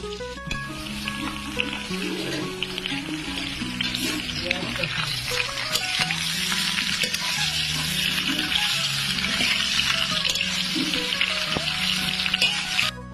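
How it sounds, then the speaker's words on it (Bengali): Mango pieces frying in oil for homemade mango pickle, a loud steady sizzle and crackle with stirring, close, while people talk over it throughout. "এবারে আমটা দিয়ে দিল আমটা না ভালো করে তেলে ভাজতে হবে"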